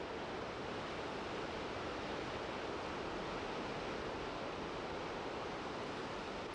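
Turbulent river water swollen by spring snowmelt rushes in a dense, unbroken roar, steady and even throughout with no voices.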